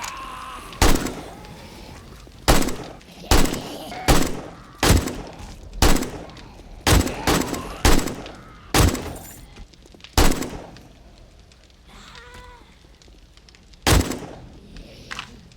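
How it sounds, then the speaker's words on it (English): Rifle shots in the video game 7 Days to Die, a dozen or so sharp loud cracks fired one at a time at uneven intervals, with no talking. "Let's finish off this lot with the rifle."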